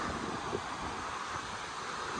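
A waterfall on Black Sail Pass in the Lake District, swollen by overnight rain, gives a steady, close, broadband rushing roar that stays unbroken throughout, with some wind buffeting.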